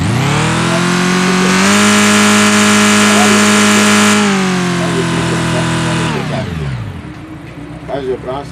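Car engine revving steadily under load as the driver accelerates, with a diagnostic fault being triggered; a loud sustained rev holds then drops away, followed by quieter idle.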